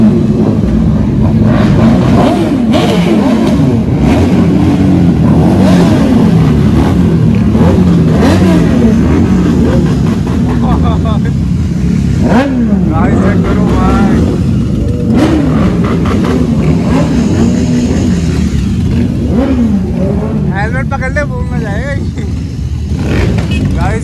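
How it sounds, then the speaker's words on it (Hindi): Motorcycles, including a Suzuki Hayabusa, rev and idle at a crowded bike meetup in Chandigarh, with loud continuous engine drone and repeated throttle blips under constant nearby chatter. "हायाबुसा देख रहे हो, काफी बाइक्स आ रखी यहाँ पे"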